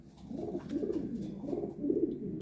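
A hen pigeon coos softly in a series of low, rounded, repeated calls, faint and close, with no talk.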